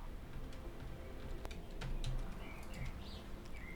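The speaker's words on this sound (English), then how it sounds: "It's nice to hear the birds." Bird chirping ambience on a planet in Dyson Sphere Program, with a few faint short chirps and tweets scattered over a steady low background hum, no talking.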